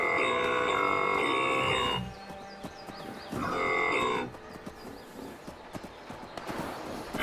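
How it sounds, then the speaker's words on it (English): Cattle lowing in the Fallout 76 game world, two long sustained moos, fairly loud and near, separated by a quieter stretch with faint clattering hoof-like taps and ambient game noise, no talking. "Comforting moo."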